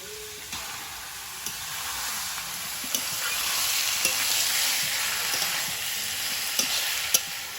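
Meat sizzles steadily in a hot pan with potatoes, onion, slit green chilli and tomato, with a constant bright fry and occasional soft clicks of stirring, close and alone.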